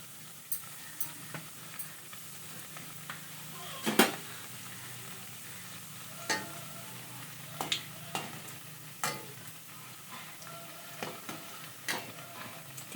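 A sweet frying in hot oil and being turned, with soft sizzling beneath sharp, scattered clicks and scrapes of the utensil against the pan at irregular intervals, close and fairly quiet.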